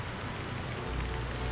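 Steady rain in the Splinter Cell Pandora Tomorrow video game, a continuous wash of dense droplets with a deeper rumble joining partway through, no voices.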